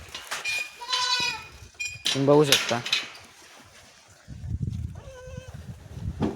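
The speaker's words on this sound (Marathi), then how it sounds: "आपल्याकडे शेळी आहे" Several crossbred goats and kids on a goat farm bleat in wavering, nasal cries, a few spaced calls close by, with a person talking between and over them.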